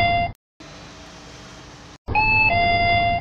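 Electronic door chime in a shop signalling a customer's entry: two bright tonal chime bursts separated by a stretch of broadband noise, loud and close, with no talking.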